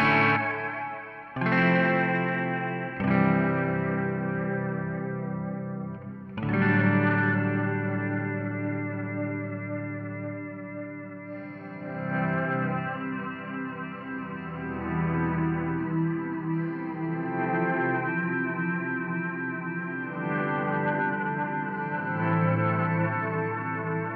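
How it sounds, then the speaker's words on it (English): A TC Electronic Hall of Fame reverb pedal on its mod setting gives a clean electric guitar a lush, wavering chorus-like shimmer. Several strummed chords ring out into long, swirling tails. "The mod reverb gives you a little bit of modulation, like a chorus in it."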